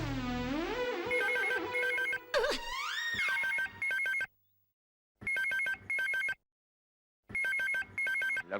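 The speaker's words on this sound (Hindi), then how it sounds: "लगता है खबरी का फोन है।" A telephone rings in repeated short bursts with pauses between, a bright electronic trill coming in after a brief musical sting at the start.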